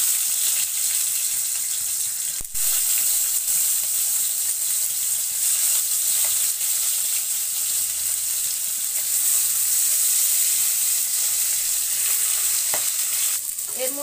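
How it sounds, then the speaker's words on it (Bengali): Boal fish frying in hot oil with reddened onions makes a loud, constant, close sizzle and crackle that fills the whole stretch, broken by a sharp knock early on and a few clatters at the end. "তো এই তো এর মধ্যে দিয়ে দিচ্ছি মাছ"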